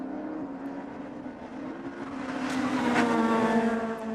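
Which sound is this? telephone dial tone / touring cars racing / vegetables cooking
touring cars racing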